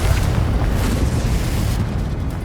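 Confringo fire spell exploding in the Hogwarts Legacy video game, a sustained deep rumbling blast with a dense low boom that rolls on steadily and loudly throughout.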